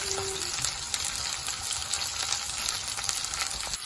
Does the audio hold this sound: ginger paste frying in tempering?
yes